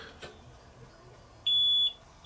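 A short, steady electronic beep from a multimeter in continuity buzzer mode sounds for about half a second, with the start of a second beep following after a quiet pause.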